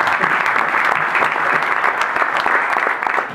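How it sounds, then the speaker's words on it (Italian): Dense, loud applause from a large audience at a futsal event in Rome, continuous and even from start to finish with no talking. "Antonello Valentini, facciamogli un applauso, grazie."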